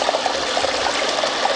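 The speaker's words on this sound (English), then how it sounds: "So current owner put in this beautiful waterfall and koi pond. The sound of water is very relaxing." Backyard waterfall spilling into a koi pond, a steady close rush and splash of falling water that holds even and unbroken throughout, with nobody talking.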